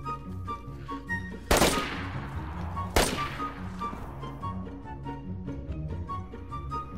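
Two sharp, loud gunshots ring out about a second and a half apart in the survival game DayZ, over a steady bed of game music and ambience.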